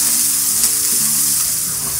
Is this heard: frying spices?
yes